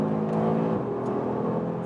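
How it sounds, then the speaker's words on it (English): An Audi RS3's five-cylinder engine runs loud and close on a race circuit near Athens, Greece, holding a sustained droning roar with a slight shift in pitch partway through. "this 5-cylinder engine delivering me great performance"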